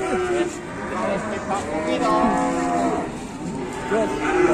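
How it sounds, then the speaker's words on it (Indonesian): Agitated, rampaging cattle, including a black cow, moo in several drawn-out low calls close by with overlapping voices of other animals, while people talk excitedly in the background. "Sapi ini ngeri, guys."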